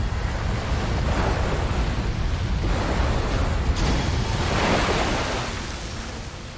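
Waves batter the inside of a cavern beside an underground river, a continuous loud roaring surge with broad swells building and easing, no voices.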